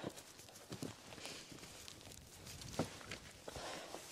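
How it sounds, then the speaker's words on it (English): Cattle walk on a hilltop road near Glen Hill on the Isle of Man, their hooves making scattered, uneven clopping steps close by over a low outdoor background. "there's bloody cattle everywhere"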